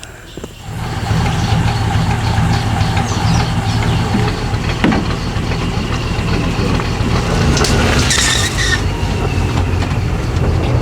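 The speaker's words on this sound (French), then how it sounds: "on est dans un Land Rover modifié en véhicule de safari avec un moteur très différent du nôtre qui est beaucoup plus silencieux" A Land Rover converted into a safari vehicle drives in Botswana: a loud, continuous rumbling engine drone with rattling and clattering from the body, starting abruptly and staying constant, with no one speaking.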